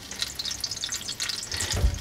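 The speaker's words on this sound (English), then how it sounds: "looks like that I have the water from the whole house coming here" Water from a house supply pipe spatters and trickles out during a dishwasher installation, a close, continuous splashing with a brief heavier gush near the end.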